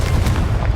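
Confringo blasting spell explosion in Hogwarts Legacy, a short, loud, booming burst with heavy low rumble, heard alone and cut off quickly.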